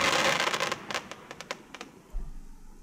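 Minecraft firework twinkle effect: a loud crackling burst gives way to a string of sharp, separate sparkling crackles that grow sparser and fainter, followed by a brief low rumble at the end.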